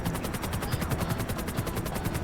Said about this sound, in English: Oh, we got a helicopter.